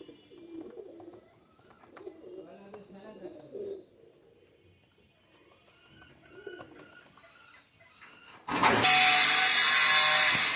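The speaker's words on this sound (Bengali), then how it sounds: "টেডি কবুতর" Teddy pigeons cooing softly in low, throaty bursts, with some background shuffling, before a loud burst of broadband noise takes over at the end.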